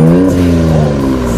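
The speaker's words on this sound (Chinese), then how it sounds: "这是开阀门的声音， 这是开阀门" The exhaust of a modified Ford Focus Wagon Vignale revs with its exhaust valve open, a loud, close, full-bodied engine drone that rises in pitch and settles back within a second and a half.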